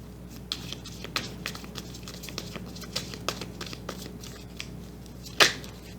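Tarot cards are handled and shuffled with soft papery riffles and light taps throughout, close and quiet, ending with one louder snap of cards near the end.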